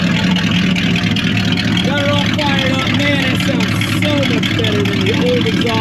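A car engine idles through a custom DIY exhaust kit, a loud, steady low rumble close up, with someone talking over it.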